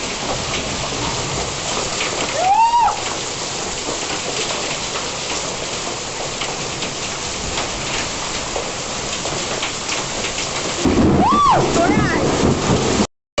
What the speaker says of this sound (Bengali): শিলা বৃষ্টি হচ্ছে, শিলা বৃষ্টি হচ্ছে